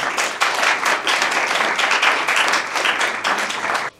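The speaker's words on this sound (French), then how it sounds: "sous vos applaudissements" An audience at an exhibition launch applauds as a presenter is welcomed, giving a loud, dense burst of clapping that stays even for about four seconds and then cuts off sharply.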